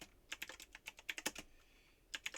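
Close, quiet typing on a computer keyboard: a quick irregular run of crisp key clicks, a brief pause, then a few more taps.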